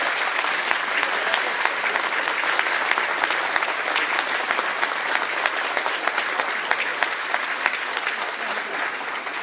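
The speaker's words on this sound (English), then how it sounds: "Please welcome her with a huge round of applause" A large diaspora audience gives a sustained round of applause welcoming the speaker, a dense, steady roar of many clapping hands at even loudness throughout.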